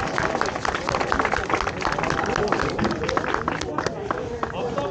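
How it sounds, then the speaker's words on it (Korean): Outdoor crowd of motorcycle riders at a safety ceremony applauds steadily, dense clapping throughout with a voice or two mixed in. "박수 한번 쳐주세요"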